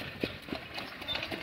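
Hooves of a two-year-old Friesian-Standardbred cross horse clip-clopping at home, a few soft, irregular hoof thuds, close and moderately loud.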